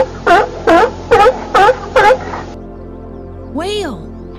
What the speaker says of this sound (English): Seal.